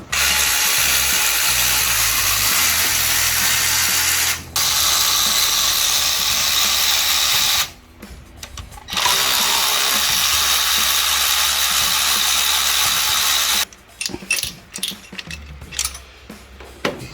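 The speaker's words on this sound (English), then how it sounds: "We'll get pulling these off now though, and hopefully we'll have these heads off pretty soon." Hand tools work on an LS3 V8 engine during cylinder head removal: loud, steady mechanical ratcheting and clattering noise runs in long stretches, broken by short pauses and ending in choppier, intermittent bursts.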